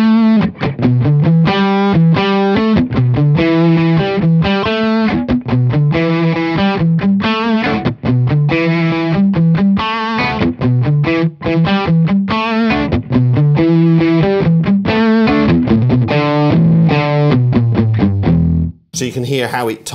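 An electric guitar plays through a Laney amp with the bass cut adjusted, a loud distorted riff repeating steadily before an abrupt stop at the end.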